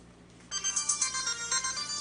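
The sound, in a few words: cellphone ringing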